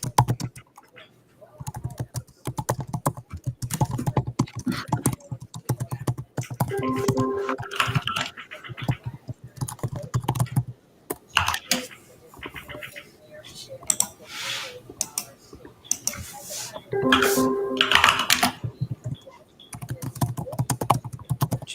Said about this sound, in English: it's just listening to keyboards right now